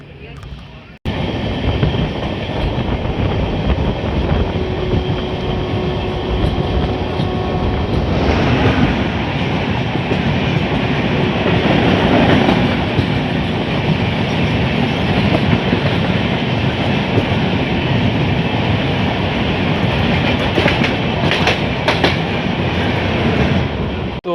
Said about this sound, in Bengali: আমাদের সাথে দেখা হতে চলেছে বারো হাজার আটশো বাইশ পুরী থেকে হাওড়াগামী ধৌলি এক্সপ্রেস ডাউনে